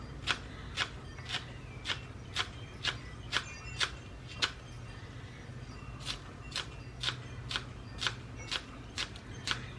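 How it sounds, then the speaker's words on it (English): Kitchen scissors snip green onions in a home kitchen, with crisp, evenly spaced cuts in two quick runs of about eight snips each, close and clear over faint background hum. "the green onions, I just use scissors"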